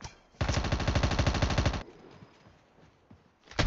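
Video game gunfire comes as a rapid automatic burst of about a second and a half, loud and close, followed by quieter background noise and the start of another burst at the end.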